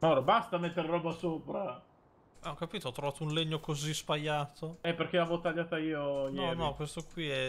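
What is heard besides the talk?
No everyday noises stand out.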